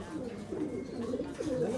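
Racing pigeons coo repeatedly in soft, low, throaty rolling calls, close by and continuous through the short stretch without talk.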